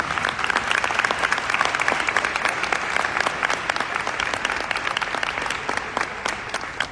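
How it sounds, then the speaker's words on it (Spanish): Steady audience clapping fills a book fair presentation hall, dense and even throughout with no voices standing out. "Un aplauso"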